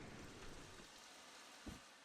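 Minecraft rain falling at night in a survival game, a faint continuous hiss with a soft low thump near the end, no talking.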